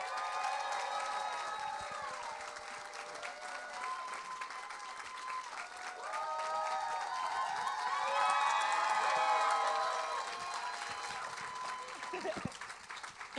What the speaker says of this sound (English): that might be the loudest applause I've ever heard